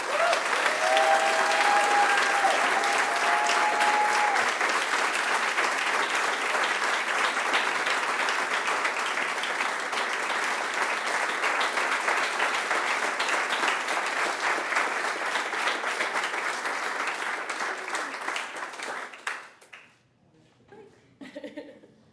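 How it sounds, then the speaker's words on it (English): A large audience applauds loudly and steadily for about twenty seconds, then the clapping tapers off into scattered claps and murmurs. "I'd like to thank, honor, and applaud Ms. Michele VanNieuwenhuyzen"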